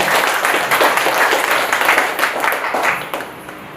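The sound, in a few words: audience applause welcoming the speaker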